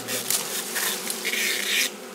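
Honeybees buzz steadily around a hive in the Jirisan mountain foothills, a dense, continuous insect hum that swells and eases over a couple of seconds with no voices over it.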